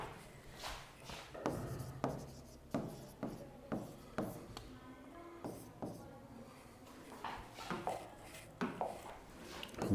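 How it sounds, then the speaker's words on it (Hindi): Pen writing on paper during a chemistry lesson, with repeated short scratchy strokes in bursts, close and fairly quiet, with faint tapping of the pen between words and no speech over it. "लिख देता हूं"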